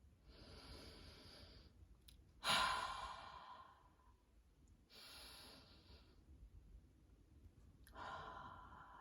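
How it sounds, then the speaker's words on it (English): Deep, slow breathing at close range: a sharp inhale around the midpoint, then long airy exhales and a further breath near the end, quiet and unhurried with no talking. "take a deep breath"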